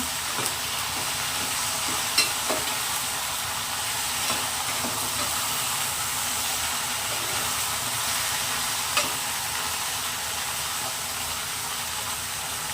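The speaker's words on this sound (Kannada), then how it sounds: "ಹೀಗೆ ಫ್ರೈ ಮಾಡಿ" Okra frying in oil in a pan while being stirred, a steady broadband sizzle throughout with occasional sharper clinks and scrapes of the spoon, close and fairly loud, no voices.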